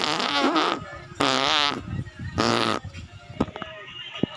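A man passes gas in a series of loud, buzzing, drawn-out farts, two or three long bursts close to the microphone, followed by some short scattered knocks and clicks.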